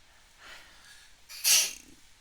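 A single person sneezes once: a short breathy intake followed by a sharp, loud burst, close up, in a lecture setting.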